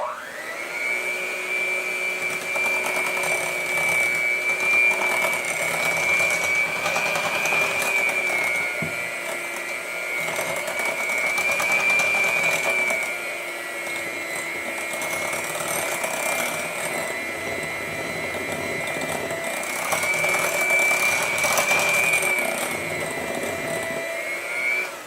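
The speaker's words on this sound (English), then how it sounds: "have my little hand mixer here, and we're going to combine these ingredients" A small electric hand mixer whirs steadily through keto blueberry bread batter, a close, continuous motor whine that swells and dips slightly as it moves through the bowl.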